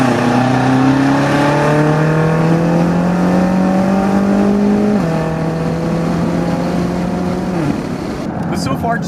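A BMW F13 M6 with a Bootmod3 Stage 2 tune pulls hard uphill with three aboard, steadily climbing in pitch, with gear changes marked by sudden drops, heard from inside the cabin.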